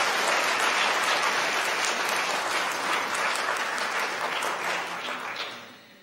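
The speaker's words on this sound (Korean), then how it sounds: "여러분들 환영의 박수 부탁드립니다." Dense, steady applause from a large church congregation during a Sunday service, clapping evenly throughout before gradually fading toward the end.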